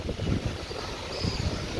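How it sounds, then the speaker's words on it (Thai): Gusty wind buffets the microphone as a storm approaches in Vientiane, Laos, a close, rough rushing roar with low thumps and no talk. "ลมเริ่มก่ายแล้วเลยทุกคนเนาะ"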